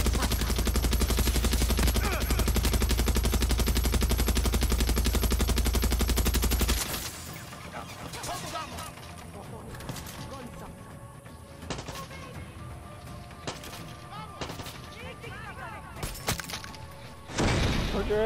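Loud continuous automatic gunfire from Far Cry 6 dominates the opening seconds, then gives way to scattered single shots, thuds and clatter, with another burst near the end.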